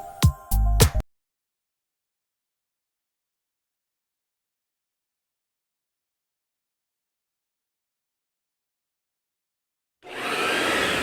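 In a radio advertisement for a vacuum store, a vacuum cleaner motor whirrs on loudly near the end after a long stretch of silence. A short burst of other sounds opens the clip.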